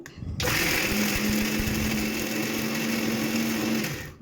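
Mixer grinder blending salt and fried ingredients for ginger chutney, starting abruptly after a brief quiet moment and whirring loud and steady with a sustained motor hum until it winds down at the end.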